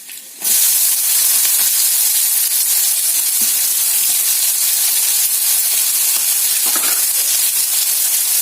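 Onions sizzling steadily in hot oil with cumin seeds in a pan while an egg and okra curry is being cooked, a loud, continuous, close frying hiss with no talking.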